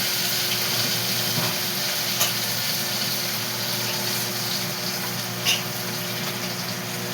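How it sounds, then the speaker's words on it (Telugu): Cumin and other tempering spices frying in hot oil for a chutney give off a steady, moderately loud sizzle. It holds continuous and even, with a couple of faint pops and no voices. "పోపులు అలా వేగుతున్నాయా"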